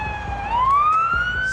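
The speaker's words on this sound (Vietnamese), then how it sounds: "Fire department. Xe chỉ huy chữa cháy." A fire department command vehicle's siren sounds on a London street, a loud, steady tone sliding upward in pitch over low traffic noise.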